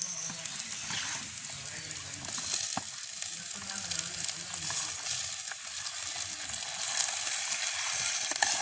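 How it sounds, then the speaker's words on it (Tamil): Onions, green chilies and unripe pineapple fry in a pan for a village-style curry, a steady broad sizzle with occasional stirring clacks, close and continuous with a faint voice in the background. "இப்போ எங்களுக்கு வெங்காய மிளகாய் எல்லாம் வதங்கி கொண்டு வருது இதோட நாங்கள் வெட்டி வச்சுருக்கோம் என்னாசிக்காய் சேர்ப்போம்"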